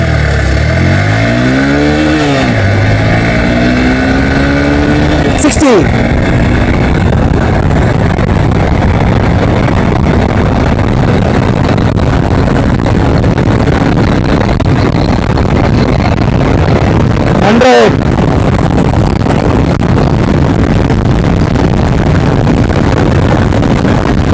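A Hero Xpulse 200T BS6 motorcycle runs a 0 to 100 acceleration, its engine revving loud and close and climbing through gears, with short dips at each shift over constant wind roar.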